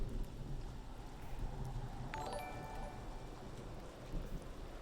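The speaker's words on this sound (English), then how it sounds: "I'll sit in silence and listen to the rain and hope it happens." Rain in the dark fantasy video game Age of Darkness falls as a steady, soft hiss of drops, with a brief bright chiming tone rising out of it midway.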